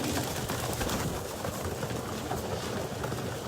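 Pigeons in a loft fill the air with dense, continuous cooing and fluttering, a busy wash of many birds close by with no single call standing out.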